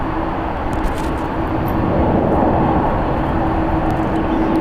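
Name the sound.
WestJet Boeing 737 MAX 8 arriving from Vancouver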